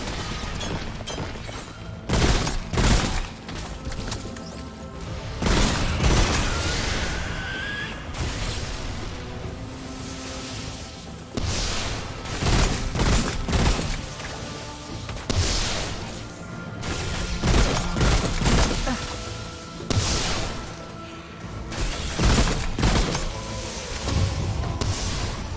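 Repeated heavy gunshots from a weapon in the video game Remnant: From the Ashes, loud booming bursts recurring every few seconds over a dense, constant wash of game noise and music.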